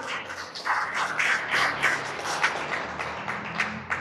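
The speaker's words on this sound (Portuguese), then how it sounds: "Vamos aplaudir a Ele?" A church congregation applauds their Lord during a Portuguese-language worship service, dense clapping spread through the room at moderate level, rising and holding steady for several seconds.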